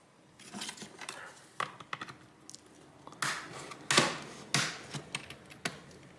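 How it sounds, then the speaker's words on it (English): The screen bezel of an Asus E410M laptop being pressed back into place, a quiet run of irregular plastic clicks and snaps as it is worked around the frame, several of them sharper and louder toward the middle. "it should just click into position as you go around it"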